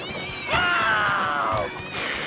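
Cartoon cats meow and yowl in a loud, drawn-out wail that rises and bends for over a second, with shorter cries before and after, close and over a faint background.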